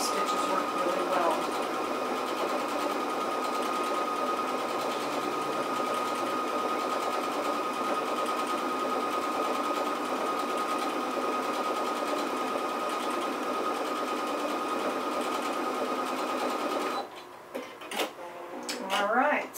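A sewing machine fitted with an edge joining foot stitches decorative patterns, a loud, fast, steady mechanical whir running continuously for most of the clip before stopping near the end, when faint handling noises follow.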